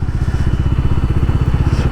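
A motorcycle engine thrums close by in a parking lot, a fast, even low-pitched pulse steady throughout, with no one talking.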